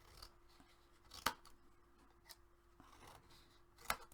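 Scissors cut chipboard in a few sharp, crisp snips spaced a couple of seconds apart, close and quiet, with faint rustling of the board between cuts.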